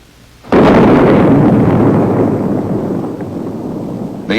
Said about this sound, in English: until the bullpup strikes the target